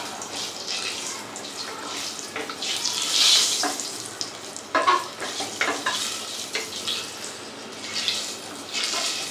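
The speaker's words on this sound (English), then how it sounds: "I need to stir them to prevent them from burning" Whole red chilies fry in a pan over a lowered flame with a close, steady sizzle, broken by repeated scraping strokes of a spoon and some light clinks.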